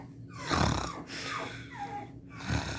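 A person imitates snoring during a truth-or-dare game, with a few rough, breathy snore-like snorts up close, the loudest at the start and another near the end.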